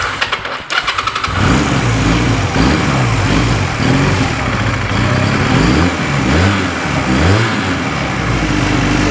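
A Honda Rebel 250 motorcycle, back running after sitting for eleven years, catches after a few sputtering turns and settles into a loud, steady idle close by, with several blips of revving throttle rising and falling.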